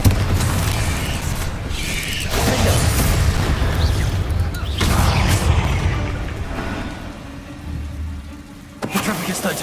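Confringo fire spells from Hogwarts Legacy go off as a string of heavy booming blasts, each a loud burst with a rumbling tail, about four over several seconds.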